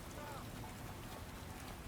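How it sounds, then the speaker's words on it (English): Rain falls in the video game Watch Dogs: Legion, a steady, soft hiss of rainfall on surfaces, faint and continuous with no other sounds standing out. "I figured I would record this game too, by the way, because it's raining, so you can see all the ray trace stuff."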